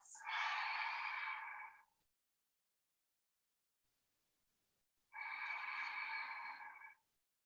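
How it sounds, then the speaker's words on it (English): Two slow, deep breaths taken during a yoga pose, each about two seconds of close, airy exhalation, separated by a few seconds of near silence. "Take some deep breaths."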